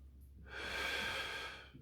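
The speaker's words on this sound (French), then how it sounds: "Inspirez et soufflez." A single deep exhaling breath during a power yoga session, close and soft, swelling and then fading over about a second with no speech.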